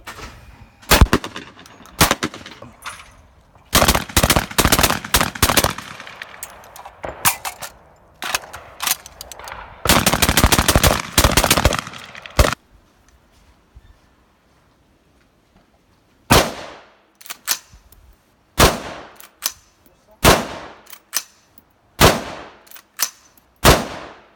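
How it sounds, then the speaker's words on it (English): A .22 Long Rifle rifle fires a series of sharp, loud gunshots, some single and some in quick bursts, separated by silent gaps, with no one talking. "Blast through with the rifle in 22 long rifle."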